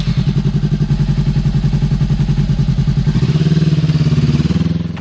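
A motorcycle engine running steadily and close by, with a rapid pulsing throb that shifts pitch about two-thirds through as it revs, then settles. No talking.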